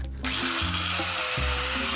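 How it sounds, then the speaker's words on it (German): A Flex angle grinder runs steadily up close, a loud continuous whine that shifts in pitch several times as the load changes. "Jetzt haben wir den Flex hier."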